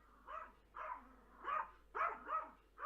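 A dog barks in short bursts, five or six woofs spaced about half a second apart, fairly close and muffled, with no talking.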